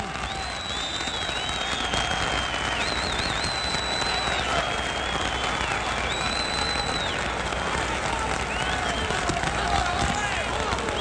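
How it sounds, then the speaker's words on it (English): Boxing crowd at Madison Square Garden during a 1962 fight applauding in a steady, dense roar with whistles cutting through, while a commentator talks over it throughout. "The crowd is applauding."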